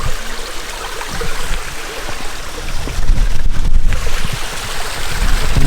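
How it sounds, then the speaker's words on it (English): A small waterfall at a tiny pedestrian ford on a moorland walk up Cosdon Beacon, in February, gives a steady, close rush of falling water that grows a little louder partway through, with no voices. "Little waterfall."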